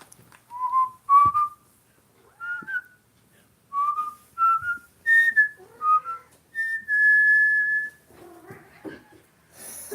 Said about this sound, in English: She squeaks when people whistle.